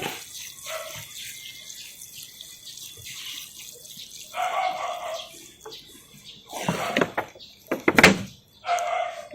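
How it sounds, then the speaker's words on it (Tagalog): Water poured over soil in a tomato seed planting container, with intermittent splashing and trickling bursts of varying loudness and a few knocks between them, close and alone. "kailangan natin basain ng tubig yan"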